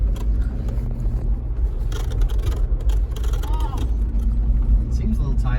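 A Jeep Wrangler JK fitted with a new heavy-duty spare tire carrier climbs a hill, its engine a steady, loud rumble that runs throughout while people talk over it.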